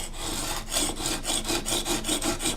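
A hand plane blade is honed at a 25-degree bevel across a flat sharpening surface, making a steady rhythmic rasping scrape with regular back-and-forth strokes, close and continuous.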